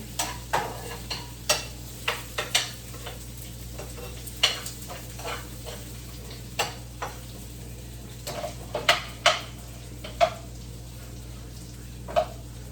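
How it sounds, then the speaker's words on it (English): Onion and garlic frying in a pan while being gently stirred with a utensil, a steady low sizzle under a string of light scraping taps and clicks spread across the pass, no talking. "So I just stir it gently."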